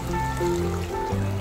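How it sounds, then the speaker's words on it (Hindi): Water pours steadily from a bowl into a pot of rice for pulao biryani with a soft, continuous trickle, while tonal music plays underneath. "हम पानी डाल रहे हैं कटोरा भरकर इसके अंदर"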